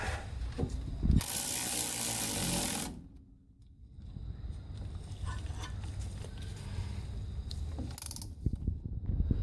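A hand ratchet clicks rapidly while a brake hose fitting is tightened down during a brake hose replacement, with a brief loud burst of noise followed by quieter workshop handling sounds.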